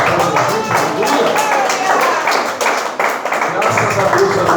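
A church congregation claps loudly and continuously during worship, a dense close-up wash of many hands with crowd voices underneath.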